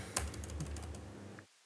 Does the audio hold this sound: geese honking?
no